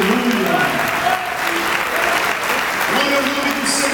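Enthusiastic applause from a church congregation during a Brazilian pastor's sermon, loud steady clapping mixed with voices and cheering.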